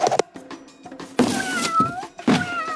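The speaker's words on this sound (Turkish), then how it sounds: "ne kadar güzel bir kedi" A cat meows several times, drawn-out wavering cries close by and fairly loud, separated by short gaps with faint thumps between them.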